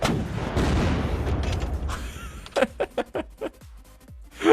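In Unturned, a missile launches with a long roaring rush, then a string of sharp, booming bursts among zombies, loud and close.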